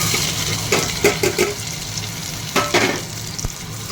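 Chopped onion, ginger and garlic frying in oil with bay leaf and whole garam masala, a steady close sizzle with a few bursts of stirring and scraping.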